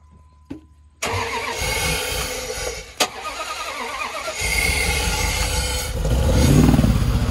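A Dodge Dakota pickup engine cranks after a shot of ether and catches abruptly, roaring up loud and close, dipping with a sharp pop, then settling into a rough, rising run.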